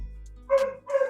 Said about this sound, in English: Hopefully you can't hear the dogs going crazy in the microphone.